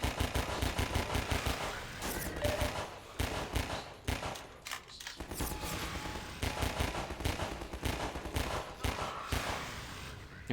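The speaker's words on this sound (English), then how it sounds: "They keep getting on that machine gun." Machine gun fire in Half-Life 2, dense repeated bursts of rapid gunshots mixed with scattered single shots and game action, loud and continuous throughout with no talking.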